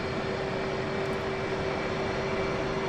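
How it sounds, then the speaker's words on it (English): An F/A-18 jet engine in the DCS World flight simulator game as the aircraft taxis toward the runway: a steady, dense roar with a constant whine running through it, continuous and loud with no talking. "advance the throttle slowly forwards and taxi to the runway"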